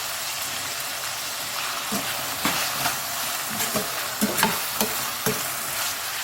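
Tomatoes and onions frying in a pan for dried fish thokku, a constant close sizzle broken by several sharp stirring scrapes and taps.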